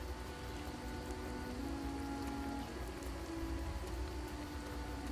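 Steady rainfall in the fantasy game Edge of Eternity patters evenly on surfaces as a soft, continuous hiss, faint and unbroken, with a low ambient drone and occasional distant tonal notes beneath.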